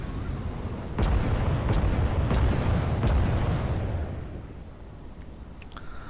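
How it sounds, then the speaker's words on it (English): Battleship secondary guns fire in the naval game Battleship Command, a series of loud booming shots about a second apart, each rolling into a heavy rumble that slowly fades toward the end. "Now I'm going to enable the secondary guns on the main fire control system"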